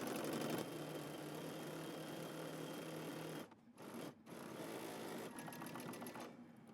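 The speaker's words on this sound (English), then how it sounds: "now we're going to go ahead and stitch the top portion of our collar" A sewing machine stitches the top of a jacket collar, running steadily and fairly close, with two brief pauses in the middle before the motor resumes its even whir.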